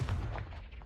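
A Confringo blasting spell goes off in Hogwarts Legacy, heard as a short, low booming burst with a fading rumble.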